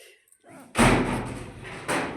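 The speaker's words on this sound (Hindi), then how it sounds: "चल दरवाज़ा लगा रसोई का।" A kitchen door is shut in a home with one loud close slam and thud, followed by a short rattle and a second softer knock, with faint household sounds just before it.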